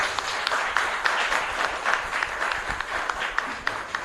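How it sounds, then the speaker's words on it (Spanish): A church congregation at Mass applauds, a moderate crowd clapping with clearly separated hand claps in an uneven rhythm, sustained for several seconds with faint voices mixed in. "Y un fuerte aplauso para el Señor"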